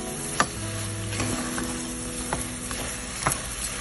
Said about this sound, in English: stirring in my rice to incorporate it with the